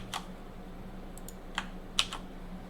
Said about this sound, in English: we just type get admin